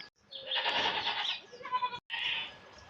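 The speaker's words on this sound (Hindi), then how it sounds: "ये देखो भाई ससुर जी ने बकरियां भी खोल दी है भाई जंगल की ओर ले जाने के लिए और हमारी 2 बकरियों को लड़ाई भी हो रही है।" Goats bleat loudly and close by, in several drawn-out wavering calls with brief gaps, as livestock are let out toward a hillside forest and two of them fight.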